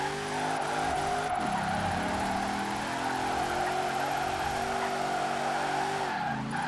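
A Mercedes X-Class drifting in Forza Horizon 4, its engine holding a steady loud drone with continuous tire squeal, and revs dipping and climbing around gear changes.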